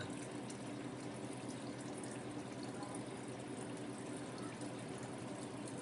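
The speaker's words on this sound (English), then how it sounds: "the water's going to start coming in again until we hit the probe again" Steady rushing of water flowing into an ice machine reservoir, continuous and even throughout, fairly quiet with no pauses.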